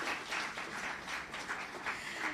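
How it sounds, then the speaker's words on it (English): An audience at a UNICEF Jamaica survey report launch gives a round of applause: faint, distant, steady clapping that rises and falls softly. "Round of applause for that team too."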